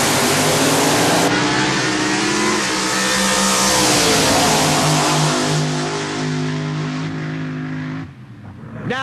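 A 2,300-pound Milodon-powered Quicksilver Jeepster drag racer roars loudly at full throttle at a drag strip, its engine note sustained and shifting in pitch before cutting off sharply near the end.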